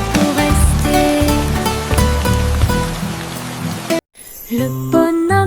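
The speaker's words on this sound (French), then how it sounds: "Les gouttes de pluie tombent, dansent et jouent." Rain pattering in a children's song, a steady wet hiss woven under bright cheerful music with sung melody, briefly cutting out near the end before the music returns.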